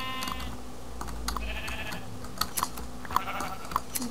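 Sheep in the Minecraft video game bleat in short synthetic calls among pigs and other farm mobs, with quick computer keyboard clicks tapping irregularly in the background.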